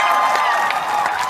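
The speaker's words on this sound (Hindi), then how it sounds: "अगर आपको अच्छा लगे तो प्लीज ताली मार देना" Audience at a live Kapil Sharma comedy show in London applauding, a dense steady wash of clapping and crowd noise filling the whole moment without a break.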